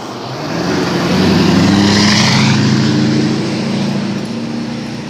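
A car speeds past on a road, swelling from the distance to a loud close roar and then fading as it moves away.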